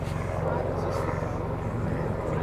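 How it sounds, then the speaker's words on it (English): A helicopter passes over the Giant's Causeway on the coast, a steady, fairly loud rotor and engine drone that holds throughout without fading. "Helicopter now."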